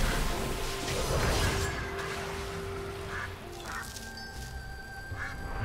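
Game bird being drowned by a water elemental in World of Warcraft, giving duck-like quacks and honks over a dense, splashy ambient bed with scattered crashing hits, fairly steady and mid-level throughout.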